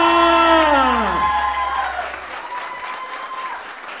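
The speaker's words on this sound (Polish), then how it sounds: "Wielkie brawa!" Wedding guests burst into applause for the first dance, a dense crackle of clapping with some cheering that starts loud over fading music and thins out toward the end.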